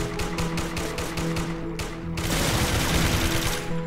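Rapid automatic gunfire in a video game, a fast run of evenly spaced shots followed by a brief pause and then a denser, louder volley over steady background music.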